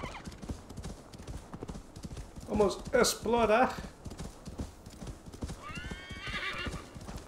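Horse hooves clip-clop steadily in Assassin's Creed Valhalla as a mount descends toward a fortress, a soft continuous patter under a voice talking, with a brief horse whinny near the end.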